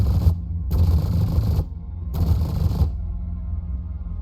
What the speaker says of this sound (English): Just thought I'd shut up a sec so you could hear the gun firing.